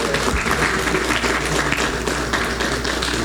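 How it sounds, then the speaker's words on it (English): Audience applause at a speed pitch competition at a summit, steady dense clapping throughout with no pauses, fairly loud and close. "Y'all can keep clapping for us so we don't have an awkward silence."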